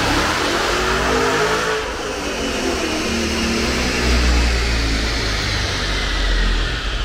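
A Mopar drag car engine revs hard during a pull, a loud, dense, continuous roar that holds steady for several seconds with slight swells in intensity and no talking.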